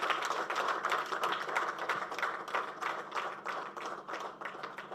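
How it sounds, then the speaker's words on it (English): Applause for Justice Esther Chisache at a Buganda Royal Law Chambers ceremony: a crowd claps steadily for several seconds, moderately distant, with no talking over it. "I think she deserves a bigger round of applause"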